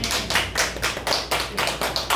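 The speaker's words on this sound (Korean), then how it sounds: "축복의 박수 한번" Applause from a small church congregation, steady rhythmic clapping that keeps an even beat for a couple of seconds, fairly close and with no voices over it.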